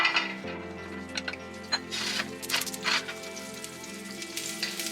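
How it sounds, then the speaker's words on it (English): Cauliflower dropped into hot olive oil in a pan crackles and sizzles in irregular bursts that grow denser, over a steady tonal background. "now that our olive oil is hot, we are going to put our cauliflower now"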